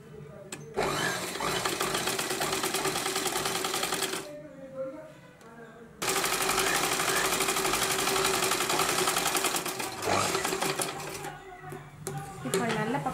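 A home sewing machine stitches the side-open slits of a churidar top, whirring steadily up close in two long runs separated by a brief pause.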